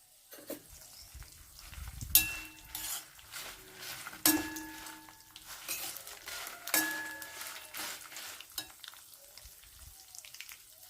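Urad dal and sesame seeds frying in a pan for ridge gourd peel chutney. A soft sizzle runs throughout while a spoon stirs and scrapes, and the metal clinks against the pan in repeated, irregular strokes.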